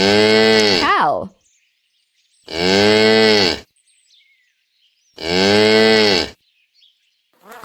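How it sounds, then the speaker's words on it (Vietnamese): A cow moos three times, each long, loud, low call lasting about a second with quiet pauses between, close to the listener. "Cow."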